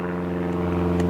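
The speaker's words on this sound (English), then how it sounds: "Excuse the aeroplane." Steady droning hum of an aeroplane flying overhead, a continuous tonal engine whine with layered harmonics, heard outdoors in a garden among apple trees.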